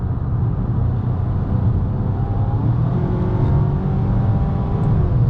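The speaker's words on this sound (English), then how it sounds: "This little car gets up and goes really quickly, which is pretty fun actually." A 2023 Ford Maverick Tremor pickup accelerating, heard from inside as a steady engine drone with a rising whine and road rumble, with no talking.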